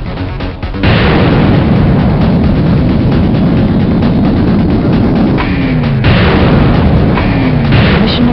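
Video game Hellbender explosion destroying a target: a heavy, sustained boom and roar that fills the whole stretch, loud and close.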